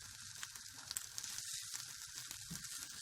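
Chicken pieces frying in a frying pan give a steady, quiet sizzle with faint crackles and pops throughout, no voices over it.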